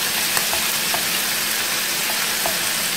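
Shrimp sizzle in a frying pan with garlic and shallots, a steady loud crackling hiss that fills the whole stretch with faint pops and scrapes of stirring, no voices.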